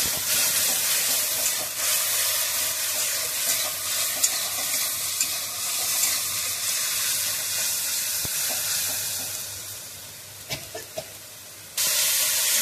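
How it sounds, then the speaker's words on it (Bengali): Spice paste for a taro and fish curry fries in a pan while being stirred, with a sustained loud close sizzle and hiss, frequent spoon scrapes and clacks, and a brief quieter dip near the end, with no speech. "মশলাটা ভালো করে কষাই নেব"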